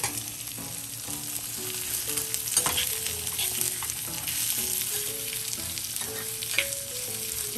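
Onion sautéing in hot oil as the tempering for a mixed dal, a steady close sizzle and crackle running the whole way with light stirring and no talk.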